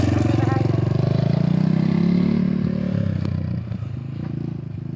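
An XMOTOS 250cc dirt bike runs laps, its engine droning steadily at mid distance and easing off toward the end, with people talking over it.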